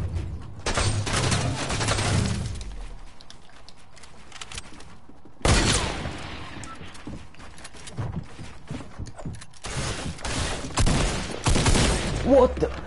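Gunfire in Fortnite, played on PS4, comes in dense rattling bursts with quiet gaps between, loud and close, with a player talking at times.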